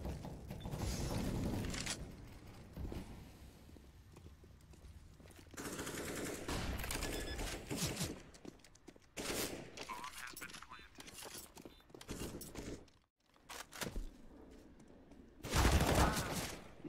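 Bursts of rifle fire from a CS:GO match come in short clusters with quieter gaps between them, heard under a commentator's continuous excited talk.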